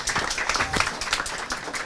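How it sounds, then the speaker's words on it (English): A small audience at a crypto meetup in Sofia claps for PaySafe, a brief scattered patter of hands at moderate level with no voices over it. "a round of applause for PaySafe"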